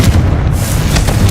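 A Confringo spell explodes in Hogwarts Legacy with a dense, booming blast and rumbling crackle that fills the short moment, loud and close, with no talking over it.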